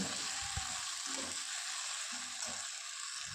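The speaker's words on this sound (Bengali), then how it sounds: "শুধু পোস্তটাকে বেটে নিয়ে এসে আমি দিয়ে দিলাম সেই আলু পেঁয়াজ ভাজার উপরে। এবার ভালো করে কষিয়ে নেব।" Potatoes and onion fried with a ground poppy seed paste in a pan give a steady, close frying hiss, broken by a few soft stirring scrapes; no voices.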